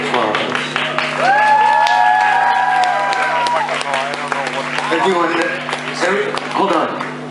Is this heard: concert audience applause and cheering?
yes